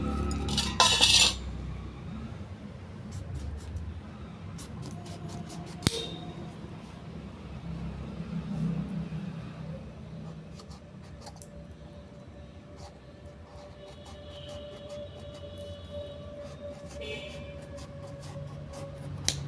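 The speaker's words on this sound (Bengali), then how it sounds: "ভাবছি এই ছুরিটা দিয়ে কাটবো।" A knife cuts and peels the skin from a tree-ripened papaya with intermittent close scrapes and soft clicks, opening with a brief loud clatter, over a quiet background.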